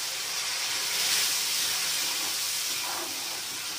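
Coriander water poured into hot oil tempering with asafoetida, a steady close hiss and sizzle of steam rising and then easing off, with no talking.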